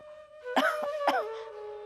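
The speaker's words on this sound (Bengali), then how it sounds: "তোমার তো কাশি হইতেছে" A person gives two short, hoarse coughs close by in a quiet indoor scene, with a faint tonal hum running underneath.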